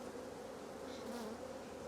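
Honey bees buzzing inside a nuc box, a steady, low hum of many insects that stays continuous and fairly faint throughout.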